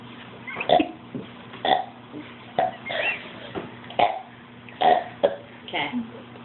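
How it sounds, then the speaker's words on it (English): A young boy burps repeatedly, about eight loud, close belches spaced roughly evenly over several seconds, with faint low background hum between them. "Can you burp more? Burp."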